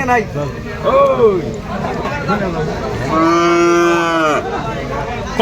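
Cattle and calves at a livestock market moo loudly and close by, with one long drawn-out low call standing out, while people chatter and bargain around them.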